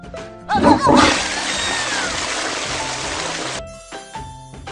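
Cartoonish toilet flush in a kids' cleanup video game, a loud rushing, swirling water burst lasting about three seconds over light game music, ending abruptly.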